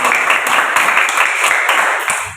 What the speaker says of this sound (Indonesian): Jadi, ya boleh tepuk tangan untuk Mas Latif lagi.